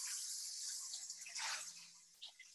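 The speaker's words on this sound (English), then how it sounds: "this is a lot of clam juice in here. So what I'm going to do is drain this" Clam juice drains from four opened cans of clams in a home kitchen, a steady faint liquid pour and trickle with small drips, close by and with no talking over it.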